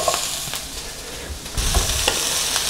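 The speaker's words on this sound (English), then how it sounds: "Just give them a good stir." Potatoes and onions sauté in a pan and get a good stir, a few scraping strokes over a steady sizzling hiss, close and clear, with no voices.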